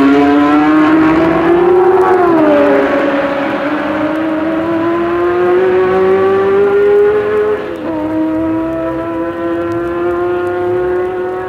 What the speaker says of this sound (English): Every Formula One engine has its own distinctive sound.